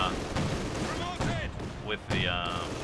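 An artillery barrage in Company of Heroes 2 pounds with repeated booms and bursts mixed into busy battle noise, while a voice talks over it.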